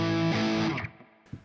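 A short, distorted electric guitar chord from a 100W valve amp through a Zilla 4x12 cabinet, recorded with the speaker simulation off. It rings out harsh and buzzy, then decays within about a second, followed by a faint pick or string noise.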